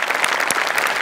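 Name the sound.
loud audience applause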